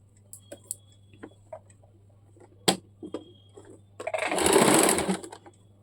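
A sewing machine stitches the lining and fabric of a baby umbrella frock together. Scattered light ticks and handling taps lead into a loud, close burst of rapid mechanical whirring that lasts just over a second, with no voices.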